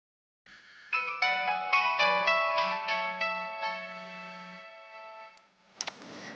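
A phone rings unanswered with a bright, repeating melodic ringtone of rapid chiming notes over several seconds, fading toward the end, followed by a brief click or rustle.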